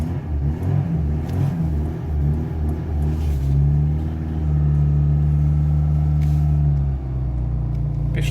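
A car engine with a choke runs at a steady, rumbling idle just after a first trial start following winter. It is loud and close, with slight shifts in revs and no voices over it.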